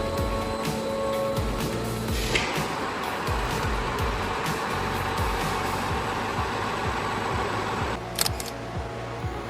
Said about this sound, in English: the wheel rotates on a continuous radial roll